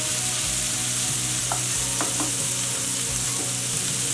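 Onions frying in a pan for a quick curry, a constant close sizzle with a few brief stirring scrapes and clicks, no voices.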